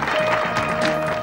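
An audience claps for participants at a literacy fair event in a short, steady burst of dense clapping, with a faint steady tone running underneath.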